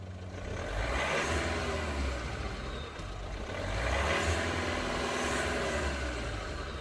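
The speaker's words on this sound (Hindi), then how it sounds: "how the engine sounds" A Tata Safari's 170 PS Kryotec diesel engine runs with a steady mid-level rumble and a faint swell around the middle, heard alone with no talk.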